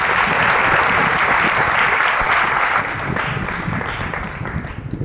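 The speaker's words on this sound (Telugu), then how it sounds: "అందరం కలిసి గట్టిగా చప్పట్లు కొడుతూ యేసుని స్తుతించుదాం" A church congregation at a shrine pilgrimage claps loudly in praise, a dense, sustained burst of applause that gradually thins and fades toward the end.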